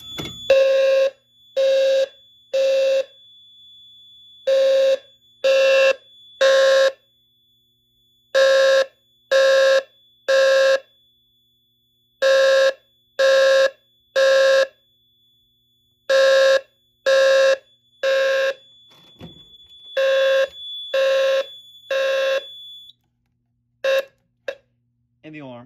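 A loud fire alarm, set off by a Fire-Lite BG-12L pull station on a Fire-Lite MS-4424B panel, pulses in repeated bursts of harsh electronic tones, grouped in regular sets with brief silences between, ending with a few short beeps.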